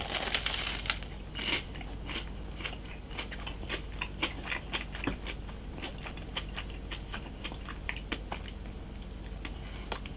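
Crisp crunching bites and chewing of a fried McDonald's apple pie crackle at close range, irregular sharp snaps over a quiet low background hum.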